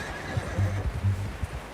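A horse in the video game Red Dead Redemption 2 whinnies in a short, wavering neigh, with faint hoof thuds around it.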